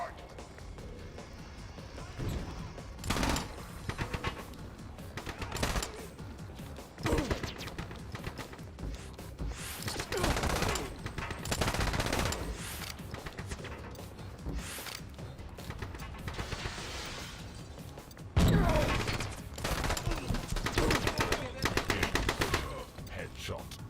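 Bursts of machine-gun and rifle fire in a retro first-person shooter, loud and repeated in rapid volleys with brief pauses, a heavy blast near the end, while someone talks over the action.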